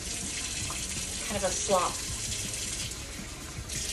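Tap water runs steadily into a kitchen sink while cornbread batter is being prepared, a soft continuous hiss with a few brief splashy gurgles, heard under a woman's quiet speech.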